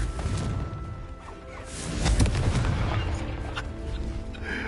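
Confringo fire spell cast in the Hogwarts Legacy video game, bursting into a loud crashing blast with whooshing, rumbling debris that swells in the middle and lingers.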